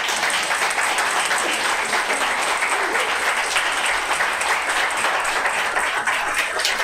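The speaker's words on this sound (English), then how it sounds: "Round of applause." Sustained audience applause at a poetry reading event, dense steady clapping from a crowd at constant loudness throughout, with no voices standing out.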